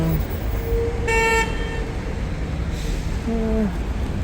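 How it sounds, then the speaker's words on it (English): Car horns toot in short bursts on a Copenhagen street beside a canal, sounding over steady traffic rumble and city noise, one blast high and brief, another lower and later. "Some cars honking."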